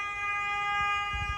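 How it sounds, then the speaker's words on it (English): A car horn sounds as a steady, sustained tone held through the whole brief moment, with some low rumble underneath and no talking. "Honk of the horn."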